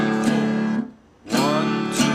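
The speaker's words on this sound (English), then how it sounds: "So the next 4 are going to be 4 strums up and down." Open guitar strums played up and down in a blues lesson piece, two bright strummed chords ringing out with a short gap between them, close and clear with no voice.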